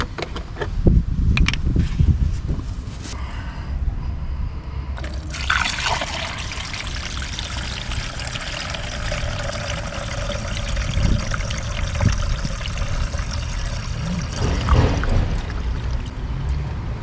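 Coolant pours steadily into the new expansion tank of a Renault Kangoo, a continuous liquid trickle and splash that runs close and loud for the whole stretch, shifting slightly in tone as the level rises.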